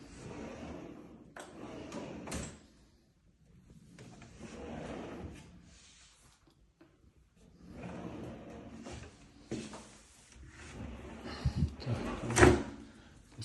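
Several kitchen drawers slide open and shut nearby, each with a rolling rumble and a thud, separated by short quiet gaps.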